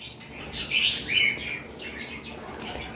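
Lovebirds chirp in a cage at a shop selling pairs, giving a few bright, high tweets and short calls in small bursts. The calls sit moderately close over a steady room hiss, and nobody speaks.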